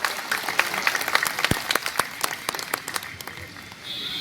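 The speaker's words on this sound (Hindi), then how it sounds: "एक बार जोरदार मेरे सम्मान में ताली बजा दीजिए" Audience applause at a poetry gathering (kavi sammelan) organized by the Income Tax Department in Varanasi, a steady burst of crowd clapping with sharp individual claps standing out throughout.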